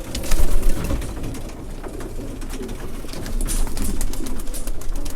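Racing pigeons coo close up, low throaty burbling calls overlapping continuously, with some fluttering and shuffling noises mixed in.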